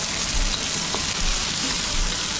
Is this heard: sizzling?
yes